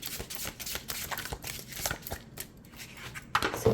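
Tarot cards, a Crow Tarot deck, shuffled by hand in a run of quick, papery riffling bursts that stay close and fairly steady, with no talk over them.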